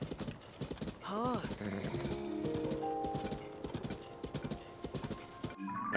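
Horse hooves clip-clop steadily in Zelda: Tears of the Kingdom, a rhythmic run of hoofbeats with a brief whinny near the start and game music in the background.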